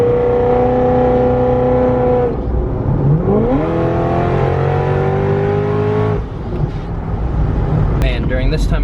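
A 700HP supercharged Corvette pulls hard on a highway, its loud engine note climbing steadily, dropping briefly at a gear change near two seconds, then rising again through a second long pull before easing off.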